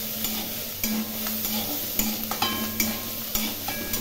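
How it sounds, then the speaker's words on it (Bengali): Pointed gourd, prawns and grated coconut stir-fry in a pan with a constant sizzle, punctuated by regular clanks and scrapes of a spatula tossing the mixture, close up with no talk. "সব কিছু ভালো করে নেড়ে চেড়ে ভেজে নেব।"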